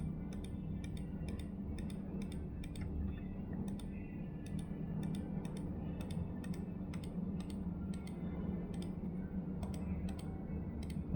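Steady typing on a computer keyboard while filling in a form, a continuous run of quick, close key clicks over a low room hum, with no voices.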